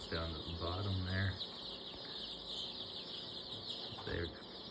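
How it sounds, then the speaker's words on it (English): Young chickens in a large brooder, a steady chorus of high peeping and soft clucks from many birds, with a voice talking nearby in the first seconds and again briefly near the end. "They're gonna be some cool-looking chickens in this group."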